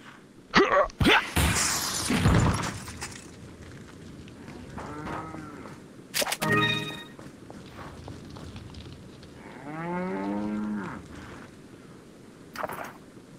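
Cattle in the Resident Evil 4 VR village lowing twice in a game scene, a short moo near six and a half seconds and a longer drawn-out moo around ten seconds, with thumps and footsteps early on and no talk.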